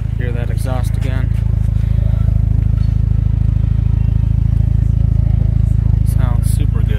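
A white 2006 Mitsubishi Evo 9 MR exhaust holds a loud, steady, deep idle rumble close by throughout, while someone talks over it.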